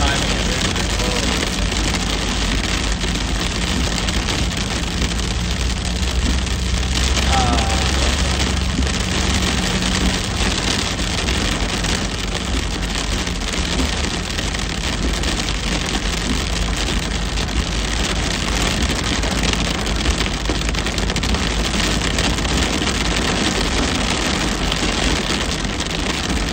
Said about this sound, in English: That seemed like hail, not rain.